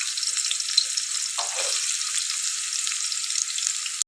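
Chopped onions frying in hot oil for a cabbage dal make a bright, even sizzling hiss that holds steady throughout, with a small stirring disturbance midway, then cuts off abruptly. No voices are heard.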